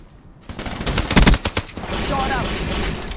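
Rapid bursts of gunfire in Call of Duty: Black Ops III, a string of loud sharp shots clustered near the start followed by continuing battle noise and a brief electronic whine.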